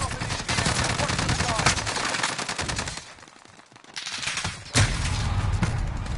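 Rapid gunfire crackles through a Warzone match, loud and continuous for the first few seconds, dipping briefly, then resuming with a sharp burst and sustained shooting.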